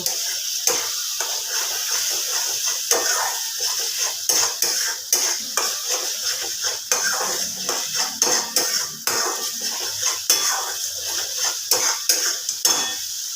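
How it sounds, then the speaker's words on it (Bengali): Spice paste for egg curry stir-fried with a splash of water, a spatula scraping and knocking steadily against the pan over a continuous close sizzle. "একটু ভালো করে জল দিয়ে মশলাটা আমি কষে নেব"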